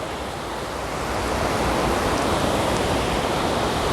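Surf washing steadily onto a wet sandy beach, a continuous broad rushing wash that swells slightly louder after the first second and stays close and full, with no voices.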